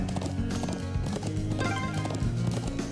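Horse hooves clip-clopping steadily under a rider's mount in the Nord Highlands of the game Legend of Heroes: Trails of Cold Steel, a continuous loud gallop with occasional neighing over a musical backdrop.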